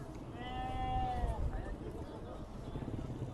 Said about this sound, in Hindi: ये एक और ख़ूबसूरत बकरा हमें नज़र आया है